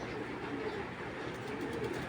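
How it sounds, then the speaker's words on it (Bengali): Soft cooing of long-distance racing pigeons murmurs through a steady hum of background noise, low and continuous with no clear individual calls standing out. "এগুলো সব লং ডিস্টেন্সে রেস করার কবুতর"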